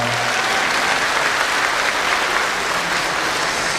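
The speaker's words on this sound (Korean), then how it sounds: "큰 박수로 환영해주시면 고맙겠습니다" Steady, dense applause from a lecture audience welcoming a guest at a political talk in Gwangju, continuous clapping filling the room at close range with no speech over it.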